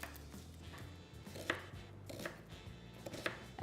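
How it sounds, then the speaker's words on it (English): A knife chops through a medium yellow onion on a cutting board in a home kitchen, with a quick series of crisp, close taps against the board. "we're going to start with chopping up a medium yellow onion."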